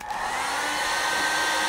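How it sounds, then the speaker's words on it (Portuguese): A hair dryer blows hot air steadily onto wood strips to heat and bend them at a guitar headstock, a continuous close whooshing hum that starts abruptly. "vamos esquentar com o secador de cabelo e ir forçando ela para baixo"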